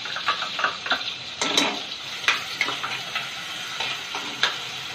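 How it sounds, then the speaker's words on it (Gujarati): Onion, garlic and chili paste sautéing in hot oil over a medium gas flame, with bursts of sizzling and the scrape of stirring coming in irregular pulses close by. "હવે આપણે આ જે કાંદા લસણ અને મરચાંની પેસ્ટ બનાવી છે તે આમાં તેલમાં થોડી સાંતળી લઈશું"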